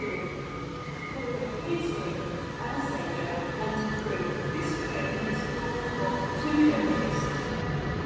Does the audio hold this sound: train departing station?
yes